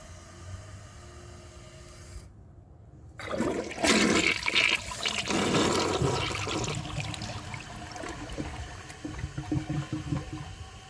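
A 2004 Gerber Aqua Saver toilet flushing: after a quiet lead-in, a sudden loud rush of water swirls and drains for several seconds, then tapers into gurgling refill trickles.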